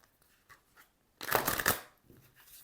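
Large Lenormand oracle cards by Gabriel Sanchez are handled and shuffled, giving a short burst of papery riffling after a few faint soft touches, recorded close and quiet.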